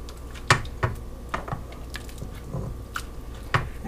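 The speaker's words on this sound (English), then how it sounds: "we're going to ladle some out into an oven-safe dish" French onion soup being ladled into an oven-safe dish, with soft wet squishing and dripping plus a few sharp clinks of the ladle against the dish, spaced irregularly and heard fairly quietly, close up.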